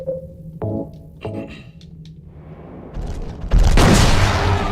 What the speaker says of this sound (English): I'm just gonna grab the shotgun.